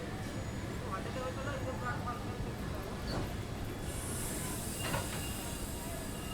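Train noise at a railway station beside the Pinakini superfast express from Vijayawada to Chennai Central, a low continuous rumble with faint wheel squeals and a brief hiss, heard under scattered voices.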